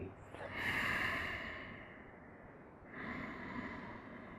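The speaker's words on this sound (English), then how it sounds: "In through the nose and out through the nose." A person breathes slowly in and out through the nose during a yoga class, two close, soft, airy breaths, a longer inhale followed by a gentler exhale, with no talking.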